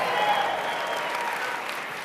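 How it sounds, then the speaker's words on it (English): Audience applause at a network marketing speakers event, a dense and steady clapping crowd close and loud throughout the short stretch, with no talk over it. "Give him a tremendous round of applause."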